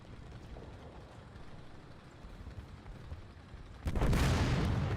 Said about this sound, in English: That's a loud explosion of a T-34 giving up